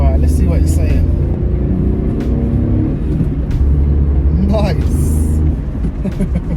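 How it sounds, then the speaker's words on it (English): A used budget car on its first test drive along a road, steady engine and road rumble filling the cabin throughout with a few brief knocks and rattles over the drone. "I'm on the first drive in the car, guys, and so far it drives really good."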